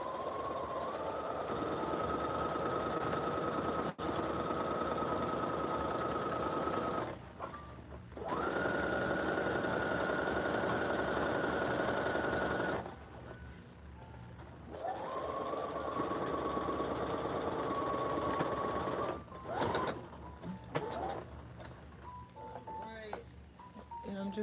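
A sewing machine runs in long steady bursts while back stitching seams on a parade costume, pausing briefly between runs, with a faint voice and some clicks in the gaps.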